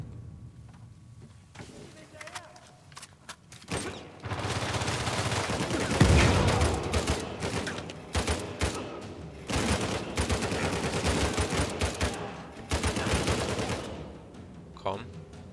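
Bursts of rapid gunfire in Uncharted 4: A Thief's End, in a cave, crackle through most of the clip, dense and loud, with a quieter lead-in before the shooting starts.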